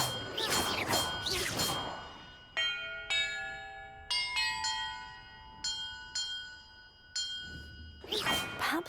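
Bells in the video game Hogwarts Legacy, about eight clear chimed tones struck one after another at roughly even intervals, each ringing and fading, framed by whooshing sweeps at the start and end.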